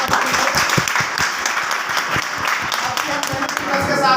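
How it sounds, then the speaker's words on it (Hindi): A crowd at a product presentation claps loudly and continuously, a dense spread of sharp hand claps with a few standing out above the rest throughout. "अगर जानना चाहते तो एक बार जोरदार तालियां बजाएं"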